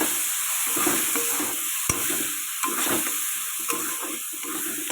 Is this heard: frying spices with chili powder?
yes